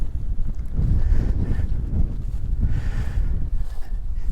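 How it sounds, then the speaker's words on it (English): Strong gusty wind buffets a Duomid tent at a wild camp in the Southern Uplands, a loud continuous rushing roar that swells and eases in gusts close around the shelter. "It's hitting in this back corner, the wind."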